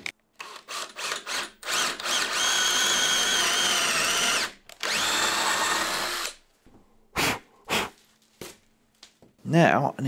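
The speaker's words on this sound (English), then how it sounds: "Now I can start drilling a series of holes" A power drill bores a series of holes in a workshop door for a lock mortise, several sustained whirring bursts with pauses between them, followed by short clunks and a voice talking near the end.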